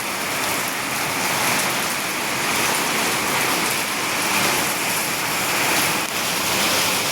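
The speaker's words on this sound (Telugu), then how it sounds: "ఫుల్ వర్షం పడుతుంది guys" Heavy rain pours onto tin roof sheets in a village home, a dense, loud, unbroken hiss that stays steady throughout with no voices.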